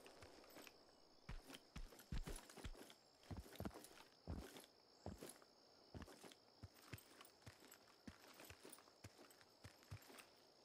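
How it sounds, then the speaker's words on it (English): The player's own footsteps in the video game Incursion Red River, a steady series of soft, crunching steps at walking pace, quiet and close, over a faint background hum. "Is that my own footsteps?"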